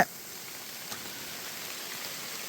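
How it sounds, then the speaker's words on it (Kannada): Rain pours down in a dense, even hiss, steady and moderately loud without pauses. "ಸಿಕ್ಕಾಪಟ್ಟೆ ಮಳೆ ನಾವು ಬೇರೆ ಕೊಡೆ ತಗೊಂಬಂದಿಲ್ಲ"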